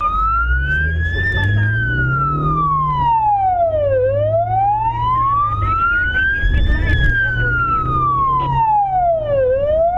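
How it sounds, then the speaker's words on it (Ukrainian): A police car siren wails in a loud, steady rising-and-falling cycle, roughly two full sweeps over ten seconds, with traffic rumble underneath as the patrol car races toward the Velykyi Fontan area of Odesa. "Правоохоронці, немов у американських бойовиках, увімкнули сирену та помчали у напрямку сьомої станції Великого Фонтану."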